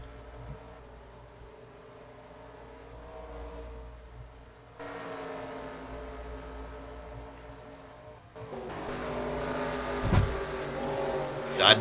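NASCAR Xfinity Series stock cars racing at Lucas Oil Raceway, a buzzing engine drone that grows louder as cars close in and roar past near the end, under a commentator's voice.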